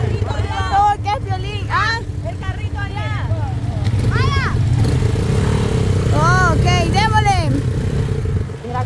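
A motorcycle engine rumbles and revs close by, with rising whining pitch sweeps and rattling, while people talk and shout over it.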